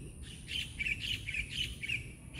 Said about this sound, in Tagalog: humuhuni din ang mga ibon